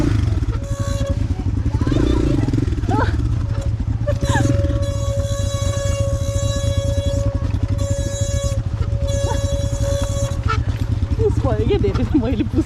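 A motorcycle on an uphill ride labours with a loud, continuous low engine drone and rattling, close by, while people talk over it throughout.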